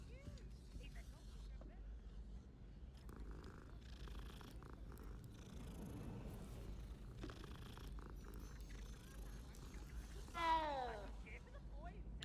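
A cat purrs steadily throughout, with a short rising meow near the end, over a constant low background hum.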